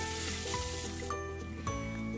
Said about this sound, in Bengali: আবারও আমি কিছুক্ষণ ভেজে নিব আদা রসুনের কাঁচা গন্ধটা চলে যাওয়া পর্যন্ত।